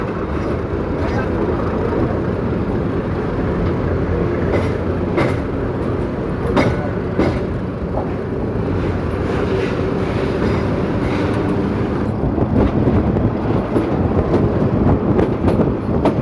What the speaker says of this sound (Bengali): নারায়ণগঞ্জ কমিউটার ট্রেনটি পাগলা রেল স্টেশন ছেড়ে যাচ্ছে